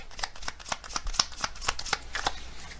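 A deck of tarot cards being shuffled close up, with a steady run of crisp riffling flicks and taps throughout, no talking.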